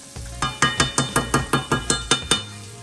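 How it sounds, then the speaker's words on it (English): Butter being stirred around a pan over low heat, with a soft sizzle under a steady run of about ten evenly spaced scraping, clinking strokes, close and clear. "I'm gonna kind of stir that butter around a bit"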